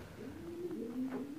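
A pigeon on a pigeon farm gives a single soft, low cooing call, faint and close, with a slight rising warble toward its end.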